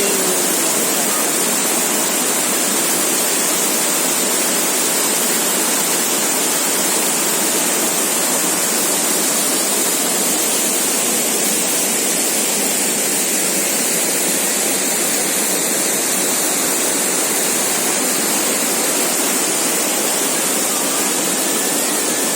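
A strong river at Cibodas rushes without pause, a steady loud broadband roar of fast-flowing water filling the whole stretch with no break or change.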